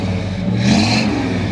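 A 1956 Chevrolet 210 engine revs up hard through its exhaust, a deep throaty roar that rises and holds loud and close for a moment.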